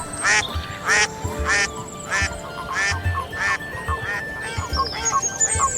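Ducks quack repeatedly on a pond, a steady series of loud nasal calls at a regular pace with faint background chatter of more birds.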